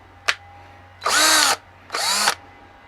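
A brief tap, then two short, loud power drill bursts into wood a moment apart, each winding up and cutting off cleanly, with no talking.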